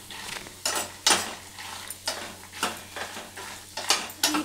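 Dry red chillies, ginger and tamarind roasting on low heat in a pan, a close run of loud scraping stirs and metallic clinks over a soft sizzle, without talk.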